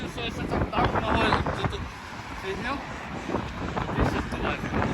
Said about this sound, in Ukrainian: тут дуже вітряно